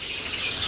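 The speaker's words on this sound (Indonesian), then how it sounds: "Ada juga ini Zebra Fin sama emprit Jepang" Zebra finches and Java sparrows kept as cage birds call in a steady, dense high chatter, close and fairly loud, running throughout the short stretch with no talk.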